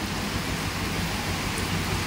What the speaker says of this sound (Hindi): ये देखो पानी में कैसी झमाझम झमाझम